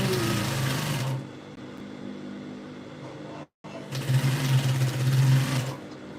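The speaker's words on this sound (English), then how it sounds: "sew around your peplum just the way I'm doing it" A sewing machine runs in two bursts stitching around the peplum of a princess bustier blouse, a steady close mechanical whir with a brief pause between runs.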